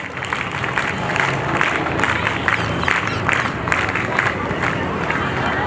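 Audience applause at a graduation ceremony for a girls' character-building camp at an institute in Agra, India, a steady wash of many hands clapping with crowd murmur, continuous and fairly loud throughout.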